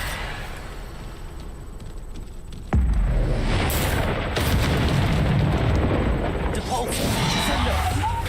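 Bombarda spell explosions from Hogwarts Legacy hit with a sudden loud boom partway through, then a sustained roaring, crackling rumble and further bursts, over a noisy game background with talking beneath.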